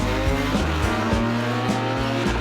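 Car engines at a car meet on the coast near Rome, with tires squealing in loud, steady bursts over a constant engine roar, close and busy, with no talk.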